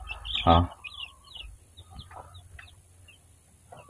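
Farmyard chickens, including young roosters, give a few scattered, fairly close clucks with quiet gaps between them, and a sharp cluck lands at the very end.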